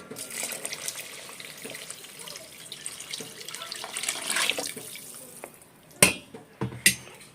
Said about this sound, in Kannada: ಈಗ ನೀರು ಹಾಕಿ ಚೆನ್ನಾಗಿ ಒಂದು ಸರ್ತಿ ಮಿಕ್ಸ್ ಮಾಡಿ